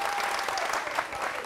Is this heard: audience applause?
yes